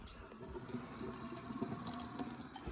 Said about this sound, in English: Put some hot water in there.